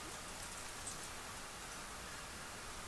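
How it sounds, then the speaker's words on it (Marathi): Steady unseasonal rain falls over rice fields in Gondia, India, in a dense, even patter, a soft continuous wash of drops on surfaces with no voices. "अवकाळी पावसाच्या सरी आता गोंदियामध्ये बरसताना पाहायला मिळत"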